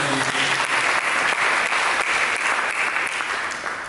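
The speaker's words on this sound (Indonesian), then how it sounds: "Mari kita berikan tepuk tangan" A church congregation bursts into steady, dense applause that fills the space, loud and continuous for several seconds before easing slightly at the end, with no talk over it.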